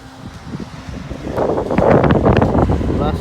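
Blustery wind buffets the microphone on a sailboat heading out across the North Sea on a wet morning, a steady rushing roar that swells louder partway through, with rustling gusts and no voices.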